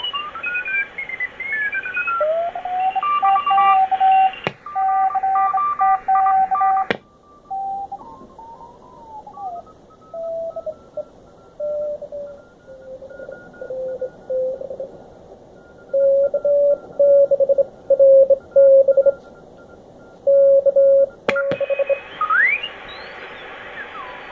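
Morse code CW tones received on the 40 m amateur band through a ham radio receiver, steady keyed beeping at a few pitches with background hiss and a brief shift in filter bandwidth.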